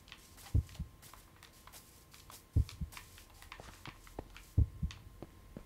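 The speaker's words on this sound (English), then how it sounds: "Heartbeat sounds." A heartbeat sound effect from a horror video game plays as three evenly spaced, muffled double thumps about two seconds apart, quiet over a faint hum.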